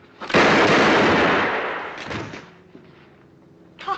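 A single loud gunshot blast ringing out in a tense Old West confrontation, with a long rumbling decay, followed by a brief shout.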